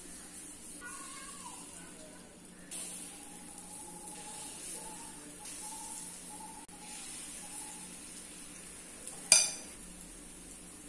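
Ghee sizzling in a paniyaram pan over moderate heat gives a steady, soft frying hiss throughout, with a brief sharp clink of metal near the end.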